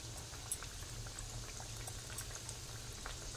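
Chicken bites fry in oil with a faint, steady bubbling and crackle, a soft continuous simmer with small pops scattered throughout.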